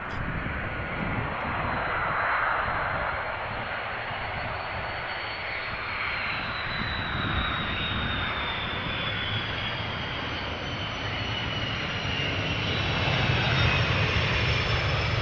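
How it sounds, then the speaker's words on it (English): A Turkish Airlines A330 airliner, flight 1951 from Istanbul, lands at Amsterdam Schiphol in crosswind, its jet engines producing a loud, sustained roar with a slowly falling whine that swells again toward the end. "This is Turkish Airlines flight 1951. Just landed, coming from Istanbul."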